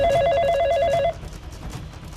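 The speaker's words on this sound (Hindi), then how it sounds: "फोन उठाइए, फोन उठाइए मालकिन, फोन उठाइए।" A telephone rings with a steady electronic trill, loud and close, for about a second before cutting off into quiet room noise.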